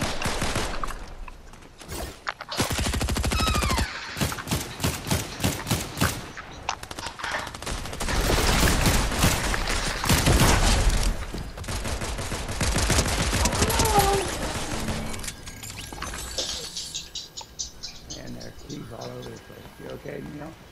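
Repeated pistol gunfire crackles through a video game squad match, sharp shots in rapid bursts over the first half and again around the middle, with players talking throughout.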